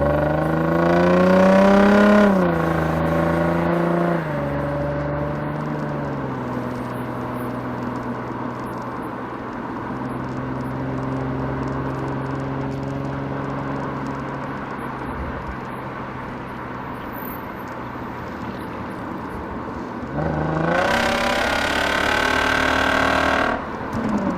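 Exhaust from a Lexus RC 350 on the move: a loud rev climbs at the start, a long steady cruising drone holds through the middle, and a strong rising rev returns near the end. Close and continuous, with no talk.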